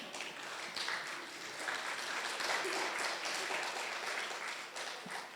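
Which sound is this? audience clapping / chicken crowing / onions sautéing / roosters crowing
audience clapping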